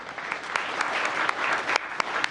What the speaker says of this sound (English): How about a round of applause for Jacinda?